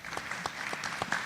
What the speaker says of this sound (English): let's keep the applause going for all the candidates